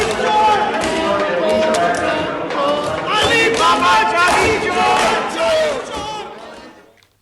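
Opposition assembly members in a legislative chamber chant protest slogans in unison, a loud crowd of shouting voices in rhythmic bursts that fades out at the end.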